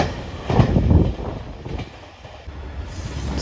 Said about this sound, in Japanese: 佃駅9時20分通過、特急四万十高知駅、2700系特急起動車です